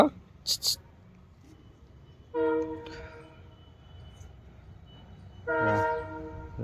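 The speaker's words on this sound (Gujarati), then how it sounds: "અહીંથી ટ્રેનનો અવાજ" Two drawn-out train horn blasts sound from a distance over a low, steady rumble of a passing train, heard from a village farm on a foggy day, with a couple of sharp brief noises at the start.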